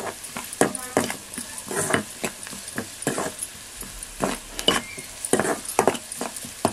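Sweet potato vegetable is stirred and tossed in a pan, with repeated scraping and clattering of a spoon against the metal in an uneven rhythm, close by.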